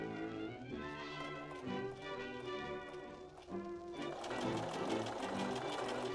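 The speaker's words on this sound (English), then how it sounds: "When I pivot at the corners, I also like to reverse for a few stitches to act as a bit of reinforcement in that area." Sewing machine stitching a seam with pivots at the corners on a 1940s Vintage Vogue dress, a close rhythmic whirring and tapping that pauses briefly and then resumes at a quicker pace, with faint talk underneath.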